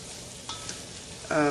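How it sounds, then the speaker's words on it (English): Minced garlic being stirred into a pot of cooking French onion soup, a soft continuous sizzle with a couple of faint spoon taps and a brief louder scrape at the end. "stir it up"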